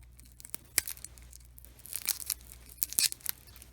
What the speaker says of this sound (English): Oh, I can peel it open.